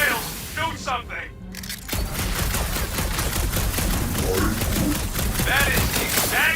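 Gunfire in the Guardians of the Galaxy video game: rapid cracking shots rattle in a fusillade alongside game sound effects, with character voices talking over the shooting.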